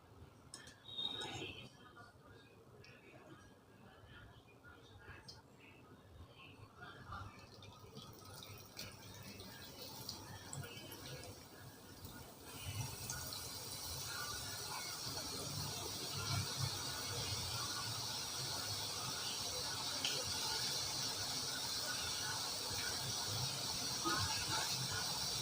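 Boondi batter for kara boondi dropping into hot oil, starting quiet with faint clinks, then building into a loud, steady frying hiss that fills the rest; a voice speaks faintly underneath.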